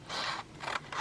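Scissors cut through a strip of paper about 1.25 inches wide in three crisp, rasping strokes, each close and clear, with no voices.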